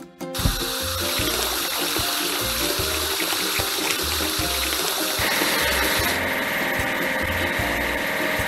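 Running water pours steadily while something is washed on a toy construction site, a continuous splashing rush with a low mechanical hum pulsing underneath throughout.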